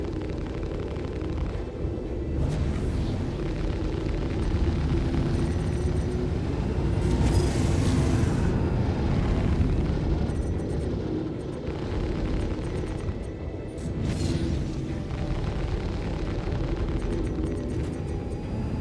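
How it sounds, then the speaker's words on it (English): Missile impacts and explosions during spaceship combat in the video game Star Citizen, a dense rumbling roar with swelling blasts and brief higher bursts over about nineteen seconds, loud and continuous without talking. "it's scary when they launch missiles that close."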